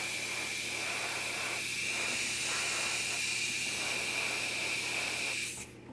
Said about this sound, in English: I'm going to just kind of mist this on a little bit.